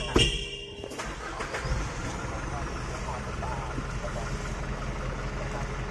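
A Hino truck engine cranks and catches, then settles into a steady low idle rumble that continues throughout.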